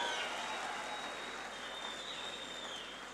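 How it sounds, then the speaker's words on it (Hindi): A hall full of children clapping at a peace and unity event, a dense, steady roll of applause heard from some distance that fades slightly toward the end. "अपने लिए ताली बजाओ बेटा, सारे के सारे जोर से बजाओ, और जोर से बजाओ"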